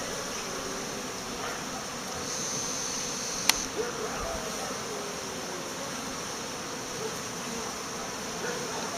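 Honeybees buzz steadily around a hive during a mid-February cleansing flight, a continuous dense hum from many insects close by with no pauses across the stretch.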